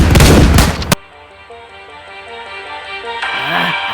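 A dense, loud burst of gunfire in an animated battle scene fills the first second, then cuts off and gives way to a quieter tonal music bed.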